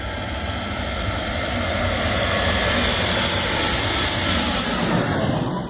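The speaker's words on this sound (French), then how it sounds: "Nous avons vu l'avion passer au-dessus de notre tête" A loud, continuous airplane engine roar fills the air as the aircraft passes low overhead on Skiathos, steady and broad throughout.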